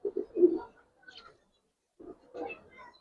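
Silver Bagha pigeons coo up close in a short burst of soft, throaty calls, fall quiet for about a second, then resume with another cluster of low coos.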